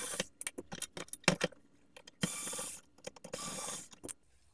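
A screwdriver turns out the T15 screws of an original Xbox console, with close, dry ratcheting clicks and small metallic rattles in short bursts, plus a few longer scraping stretches.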